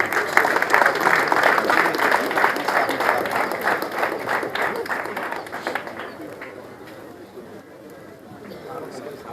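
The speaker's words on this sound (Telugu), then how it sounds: "గట్టి కూడా చప్పట్లు." Audience applause at a meeting, a dense burst of many hands clapping that carries on for several seconds and then fades to quieter room sound.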